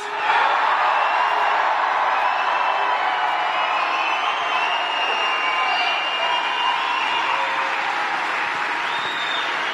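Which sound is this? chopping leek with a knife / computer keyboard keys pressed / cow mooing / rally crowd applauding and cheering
rally crowd applauding and cheering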